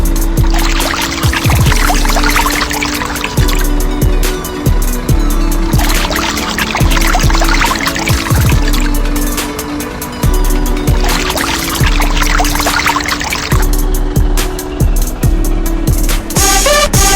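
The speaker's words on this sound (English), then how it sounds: "Finalize the track and wash the track." Water is poured to wash a toy truck track, a loud splashing pour repeating in bursts over a steady mechanical hum and rhythmic ticking from a model truck.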